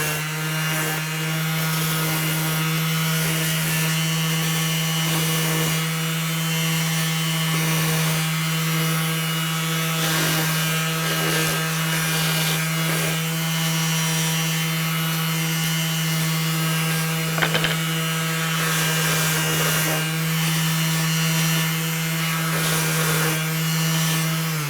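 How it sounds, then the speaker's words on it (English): Power sander working steadily over bumper backing wood, a continuous loud abrasive hum with a strong low drone and gritty rubbing texture, running alone without pause for the whole stretch. "I'm going to go ahead and grab my sander here."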